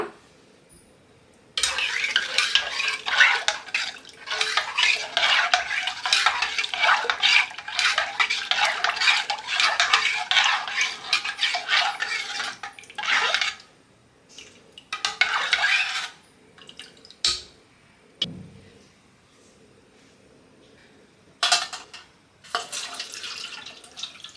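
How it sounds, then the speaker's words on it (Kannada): Masala and tamarind juice being stirred into cooked water in a pot for sabbakki bassaru: a spoon scrapes and clinks against the metal pot in long, steady bursts, then breaks into shorter stirs with brief pauses, close and loud with no talking. "ಚೆನ್ನಾಗಿ ಮಿಕ್ಸ್ ಮಾಡಿಕೊಂಡು ಇದನ್ನು ಸೋದಿಸ್ಕೊಳ್ಳೋಣ"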